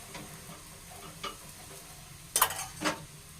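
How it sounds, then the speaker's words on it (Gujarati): Oil is drizzled around thepla frying in a pan, giving a faint, steady sizzle with light ticks and a couple of louder spoon clinks and scrapes near the end. "આ રીતે થોડું થોડું ફરતું તેલ નાખશું બધું."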